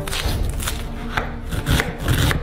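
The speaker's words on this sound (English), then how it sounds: "chopping the onion." An onion being chopped on a cutting board, with steady, close knife strokes and crunchy scraping in a continuous rhythm.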